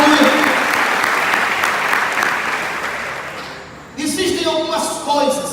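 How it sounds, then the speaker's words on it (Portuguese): A church congregation at a Yom Kippur service applauds for Jesus in a loud, sustained wash of clapping that fades before a voice speaks over the last moments. "Dê uma salva de palmas a Jesus."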